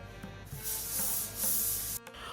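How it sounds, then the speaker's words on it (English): Holding spray misted onto crimped hair makes a continuous hissing spray lasting about a second and a half, then stops abruptly and leaves a quiet room. "the holding spray ensures that the curls last longer, but please do not spray too much"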